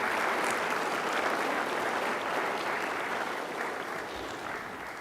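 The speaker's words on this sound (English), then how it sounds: "How about a round of applause for the recipients and the Lekwungen dancers?" An audience at a British Columbia reconciliation award ceremony applauds recipients and Lekwungen dancers, a dense, sustained wash of clapping from a large crowd that holds steady for several seconds and eases slightly at the end.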